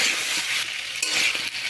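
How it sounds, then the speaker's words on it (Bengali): Vegetables sizzle steadily in a hot pan with salt and turmeric, a dense hiss of frying broken by a few stirring scrapes, close and continuous. "লবণ আর হলুদ দিয়ে আমি সব সবজিগুলো ভেজে নেব"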